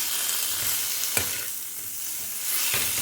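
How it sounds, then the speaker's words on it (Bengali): Cumin and coriander powder stirred into hot oil in a pan, a steady close sizzle with a couple of sharp spoon scrapes against the metal, no voices. "একটু নাড়বো।"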